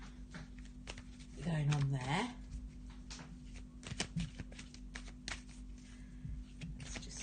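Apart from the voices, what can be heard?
shuffling Wisdom of the Oracle cards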